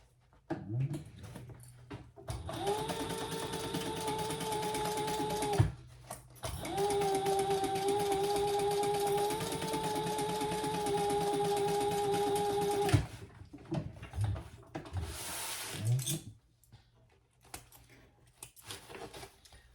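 A sewing machine stitches the bottom lining of a tote handbag in long steady whirring runs with brief pauses between them, close and clear, with some soft handling noises.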